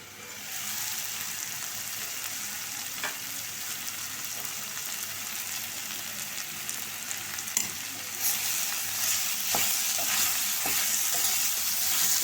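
Snake gourd and garlic sautéing in oil in a pan for kootu, a steady close sizzle with faint stirring scrapes, growing slightly brighter toward the end, with no talking.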